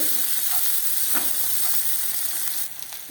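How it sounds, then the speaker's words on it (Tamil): Onions sizzle and sauté steadily in a hot pan, a constant close crackling hiss with faint scrapes, no voices. "வெங்காயம் வதங்கட்டும்"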